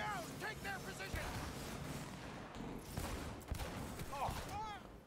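Rapid bursts of gunfire in the video game Cyberpunk 2077 as shots are fired into the floor, a dense stream of loud reports alongside explosive booms, with voices talking over the shooting.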